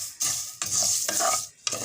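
Vermicelli sizzles in hot oil and gets stirred in quick strokes, three or four loud bursts of frying with scraping in between, close up and with no talking.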